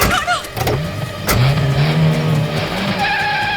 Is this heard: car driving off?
yes